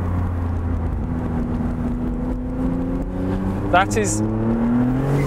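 A Maserati MC20 Cielo with the roof off runs on a track, its engine droning with steady rising tones and a brief whistling turbo flutter near the end, while someone speaks over it.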